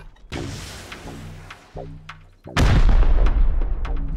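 Gunfire from the survival video game Rust, starting with scattered distant shots and sharp cracks, then a few louder close reports, before a heavy sustained burst of booming fire takes over.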